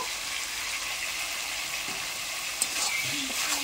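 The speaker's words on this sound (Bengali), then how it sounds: "এর মধ্যে ভেজে রাখা করলাগুলো দিয়ে দেব।" Fried bitter gourd pieces go into a pan of potatoes nearly boiled down in shallow water, with a steady bubbling sizzle and soft scraping stirs close by, alone without speech.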